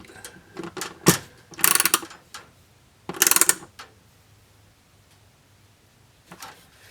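A ratchet tightens a part during a rebuild of a rusty, neglected Honda CR-V, giving a few short bursts of rapid clicking separated by pauses, close and loud in a quiet shop.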